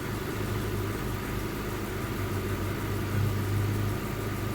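An engine idles steadily after an idle speed control adjustment, a constant low rumble with a faint hum, close and uninterrupted with no talking.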